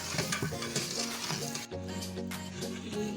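Chopped garlic and ginger fry and sizzle in a pan for achari chana chawal, with a spoon stirring and scraping against the metal throughout, a steady, close, moderately loud kitchen sound with no talking.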